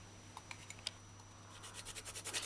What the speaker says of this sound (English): Stir drink properly. Use the spoon. Stir in drink until you feel no more sugar